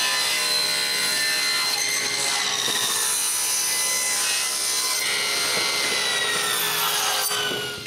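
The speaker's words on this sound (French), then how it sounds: "Ensuite, je coupe le reste du carré au banc de scie." A table saw cuts through a square block of wood for a nutcracker, giving a steady, continuous high-pitched rasping whine that runs for the whole stretch and fades at the end.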